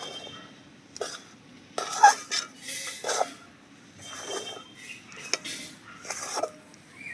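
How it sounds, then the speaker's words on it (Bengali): Palm fruit batter being mixed in a bowl for oil-free taler bara, with intermittent clinks and scrapes of utensil against the bowl, close and moderately loud, with quieter pauses between strokes. "এইভাবে করে কিন্তু ভালো করে আমি সব মিশিয়ে নেব"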